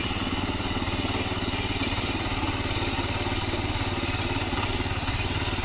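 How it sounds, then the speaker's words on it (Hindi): A farm tractor driven through a hillside field, its engine chugging in a steady, even rhythm, loud and close throughout with no voices. "और ये रहा हमारा ट्रैक्टर, अभी मेरे चाचा चला रहे हैं।"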